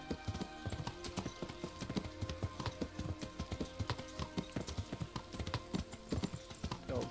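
Hooves clip-clop in a fast, steady galloping rhythm as a horse runs in the medieval video game Kingdom Come: Deliverance, close and continuous with a brief neigh; no one talks over it.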